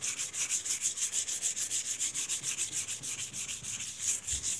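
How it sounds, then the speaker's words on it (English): Wet sanding a car hood by hand, a steady rhythmic rubbing with quick regular back-and-forth strokes, close and fairly quiet, with no voices. "You want to make sure you wet sand it."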